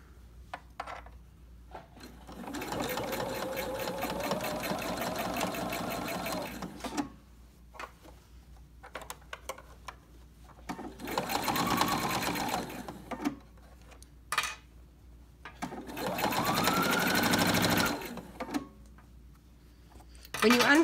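A sewing machine stitches a Cricut Maker dust cover in three long runs of rapid, steady mechanical whirring, separated by pauses with faint handling sounds and short quiet gaps.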